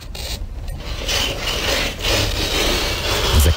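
Fingernails scratching and rasping across a surface in repeated strokes, a harsh, grating, irritating scrape that stays loud and close throughout, with no talking.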